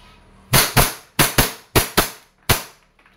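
A WE Airsoft 1911 Type B gas pistol fires seven sharp, snappy shots, some in quick pairs and some singly, each a crisp loud crack with a short decay, close by and with no talk over them.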